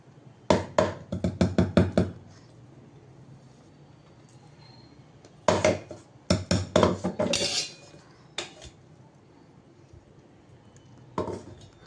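A utensil clinks and scrapes against a bowl while ground roasted sorghum flour is transferred into it: quick bursts of close, sharp taps, a long pause, then more clattering and a few scattered knocks.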